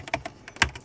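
Quick burst of typing on a computer keyboard, several crisp close key clicks in under a second, with no voices.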